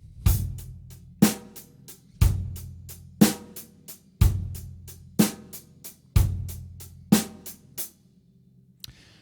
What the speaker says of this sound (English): a basic 6/8 groove based on an eighth note subdivision